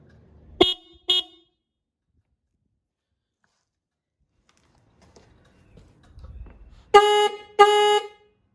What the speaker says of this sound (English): I'm definitely gonna stick with this horn. I do think it sounds better. It has a lower tone.